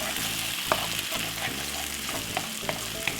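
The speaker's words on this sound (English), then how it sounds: "Simple, add the egg. I'm gonna scramble the egg" Egg scrambling in a pan with sautéed mushroom and white onion, giving a steady close sizzle with scraping stirring strokes and a few sharp clicks throughout, with no voices.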